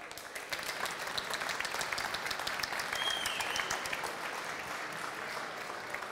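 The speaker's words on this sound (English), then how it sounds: "A little more applause, please." A conference audience gives a round of applause after a technology talk on synthetic environments. The clapping is sustained and moderately loud, with crisp individual claps throughout and no speech on top.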